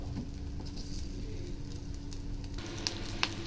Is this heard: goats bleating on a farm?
no